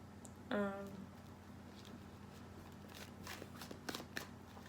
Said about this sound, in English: I just try to put these exact cards back in so I can reshuffle